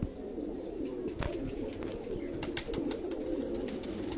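High-class pigeons coo nearby in soft repeated low murmurs, with occasional sharp clicks and flutters scattered over a steady background, no talk.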